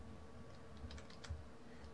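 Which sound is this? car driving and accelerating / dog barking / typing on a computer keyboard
typing on a computer keyboard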